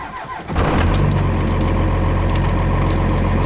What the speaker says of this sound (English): Starts like a Cummins.